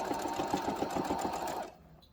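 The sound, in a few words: sewing machine stitching fabric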